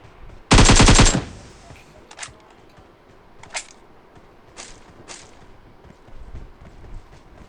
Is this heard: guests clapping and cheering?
no